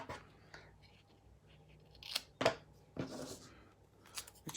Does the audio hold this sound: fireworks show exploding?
no